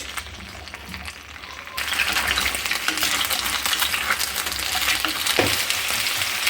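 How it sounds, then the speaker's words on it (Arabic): Potatoes frying in a pan, a steady loud sizzle that swells as they are stirred and scraped, close by and without talk. "نبدا نحرك فيها هكذا باش ما تلصقناش"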